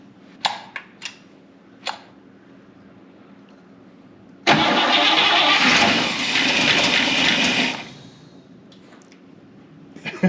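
A fire-damaged Buick Electra 225 engine, primed with a spritz of gas, gives a few sharp clicks before cranking, then catches and roars loudly for about three seconds before cutting out.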